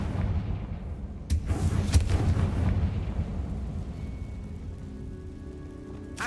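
A Confringo fire spell blasts in Hogwarts Legacy, a sharp booming burst with crackling rumble that trails off into a low, steady game ambience.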